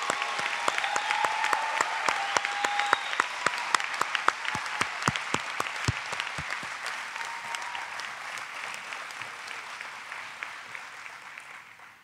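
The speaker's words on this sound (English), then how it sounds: "Please join me in giving another final round of applause for this" Audience at a college commencement ceremony for special education graduates applauding, a broad roomful of clapping with sharp individual claps standing out, gradually thinning and fading toward the end.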